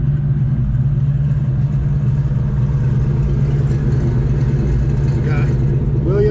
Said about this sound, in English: so we've got both cars running now